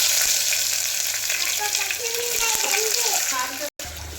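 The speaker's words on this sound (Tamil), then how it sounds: "இருக்கிற ஸ்டேஜ் முன்னாடியே நம்ம வந்து ஆனியனை ஆட் பண்ணிடலாங்க" Onions hit hot oil with whole spices as a steady loud sizzle for biryani cooked for a wedding-day lunch, with a bit of stirring, faint voices underneath and a sudden brief cutoff near the end.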